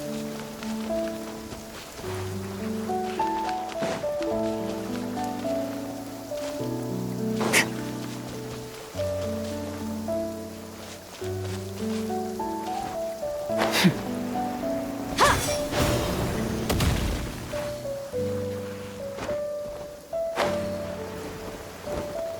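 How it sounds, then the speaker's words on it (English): Rain patters steadily in a video game, spread across the whole scene beneath a looping melodic music track, with a few louder splashy bursts partway through. "I like the rain."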